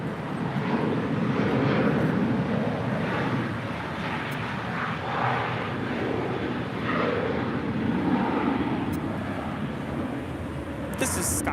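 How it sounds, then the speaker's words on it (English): A JetBlue Airways Airbus A321 departs LAX, heard as a distant, fairly faint broadband engine roar with wind-like noise, while a person talks in the foreground over it. "This is Sky's the Limit, an A321 with JetBlue Airways departing to Fort Lauderdale, flight 1700."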